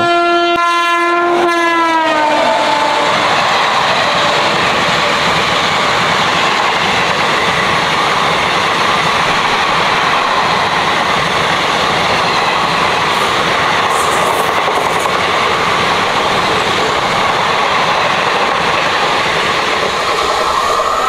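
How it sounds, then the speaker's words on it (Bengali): A passenger train sounds a long horn blast at the start, then runs on steadily with loud, continuous rumble and wheel noise, close and alone after a halt at Guskara station on the Shantiniketan to Kolkata route. "প্রথম হল্টের হর্ন দিয়ে দিয়েছে।"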